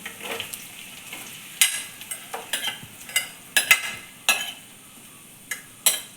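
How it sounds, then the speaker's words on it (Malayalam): Ginger, green chili, shallots and onion sizzle in a hot pan for chicken curry, with a steady fry broken by repeated sharp stirring scrapes and clinks of a utensil against the pan. "നമ്മളെടുത്ത് വെച്ചിരിക്കുന്ന ഇഞ്ചിയും പച്ചമുളകും പിന്നെ നമ്മളെടുത്തിരിക്കുന്ന ചുവന്നുള്ളിയൊക്കെ ഇട്ട് കൊടുക്കാം നമ്മളെടുത്ത് വെച്ചിരിക്കുന്ന സവാളയും കൂടെ ഇട്ട് കൊടുക്കാം"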